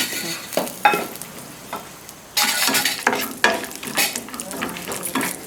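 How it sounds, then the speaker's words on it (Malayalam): Split cashew nuts fry in ghee in a pan with a steady sizzle, broken by repeated scraping, stirring clatters that grow busier and louder partway through; no voices. "അതിലേക്ക് അല്പം നെയ്യ് ഒഴിച്ചു കൊടുക്കാം. അണ്ടിപ്പരിപ്പ് ഇട്ട് കൊടുക്കാം."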